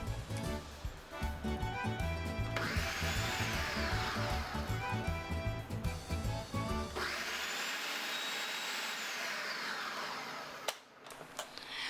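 A blender or food processor briefly pulses chunky tomatoes into pizza sauce, a loud motor whir rising and falling in two runs before cutting off.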